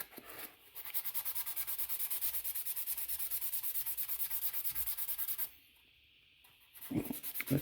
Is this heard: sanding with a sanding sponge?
yes